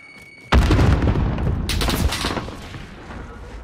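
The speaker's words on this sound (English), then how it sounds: "Our purple mate's shooting at someone further down the roof by the way" A sudden burst of gunfire in Call of Duty: Modern Warfare erupts loud and dense, with rapid overlapping shots and a second sharp blast partway through, then trails off into a rumbling decay.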